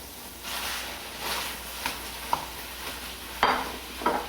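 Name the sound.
ground beef being stirred into sofrito in a pan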